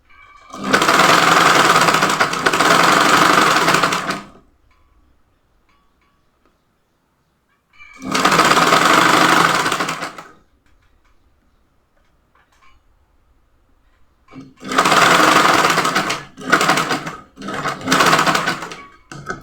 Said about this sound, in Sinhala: මේ පළවෙනි ස්මෝක් නූල ඇදලා මහන්න.